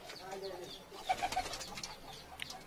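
A Siraji pigeon, a recovered bird about to go back to its nest box, gives soft, brief coos close by, with rustling and a faint flutter around them.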